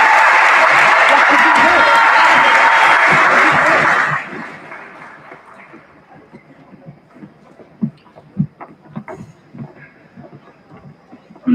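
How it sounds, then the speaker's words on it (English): Applause rings out loud and dense for about four seconds at a middle school graduation ceremony as the closing speakers are welcomed, then cuts off abruptly into a quiet room with scattered faint murmurs, shuffling and chuckles. "Can we please give a round of applause for Ada, Luzani, and Isabella"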